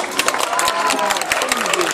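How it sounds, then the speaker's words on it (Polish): A crowd claps steadily throughout, a dense wash of many hands applauding at close range, at a band's concert in Radzymin. "też myślę brawa się należą"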